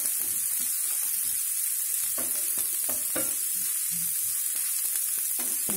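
Onion pieces frying in hot oil for crispy fried corn, a loud continuous close sizzle with irregular clicks and scrapes of stirring throughout.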